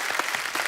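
A brief burst of studio audience clapping on a TV comedy show, a quick even patter of many hands, fairly close and uninterrupted.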